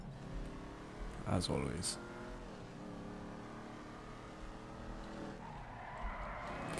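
A car in GTA V accelerates and skids with a sharp burst of tire squeal, then the engine keeps droning under a voice as he talks.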